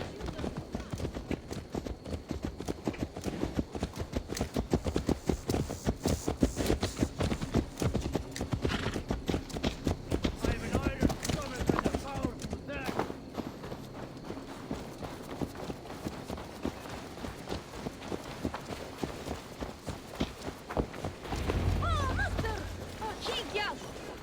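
A horse's hooves clip-clop steadily in Assassin's Creed Valhalla. The rapid, continuous hoofbeats run under game music and ambience throughout, and voices talk over them.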